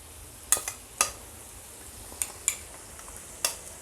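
Ground coconut-peanut masala is stirred into hot oil for Vidarbha-style stuffed eggplant. A spoon scrapes and clinks sharply against the pan about six times at irregular intervals over a soft, steady sizzle.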